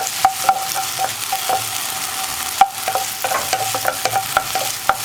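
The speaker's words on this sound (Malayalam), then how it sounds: "ചൗരിയും ഞാൻ ആ ബാക്കിയുള്ള നെയ്യിലൊന്ന് വഴറ്റിയെടുക്കുകയാണ് കേട്ടോ" Vermicelli is sautéed in a small amount of leftover ghee, in the pan where cashews and raisins were roasted for ragi semiya payasam. A soft steady sizzle runs under repeated scraping stirring strokes and occasional sharp clinks, close up, with no talk.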